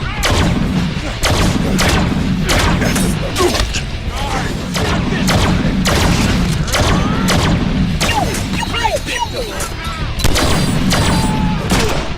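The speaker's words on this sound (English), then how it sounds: "you get the added bonus of Deadpool's gunplay with pistols, shotguns, submachine guns, and laser guns" Constant loud gunfire from the Deadpool video game, with pistols, shotguns, submachine guns and laser guns blasting in a dense barrage of shots and thuds amid chaotic combat noise.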